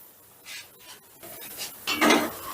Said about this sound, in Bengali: পাঁচ মিনিট বাদে ঢাকাটা তুলে নিলাম